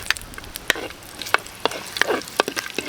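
Ginger sautéing in a pan for pork bones in oyster sauce, heard as a soft sizzle broken by repeated sharp clinks and scrapes of stirring, spaced unevenly and close by.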